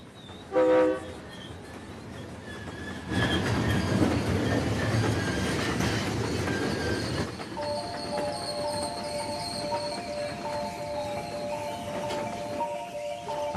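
Heavy rail noise swells as a train goes by in Australia, followed by a sustained, multi-toned whistle blowing steadily over the fading clatter.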